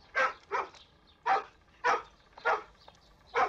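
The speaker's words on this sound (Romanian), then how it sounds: "De ce latri?" A small dog barks six times in short, loud, separate bursts at uneven intervals, close by and without talk.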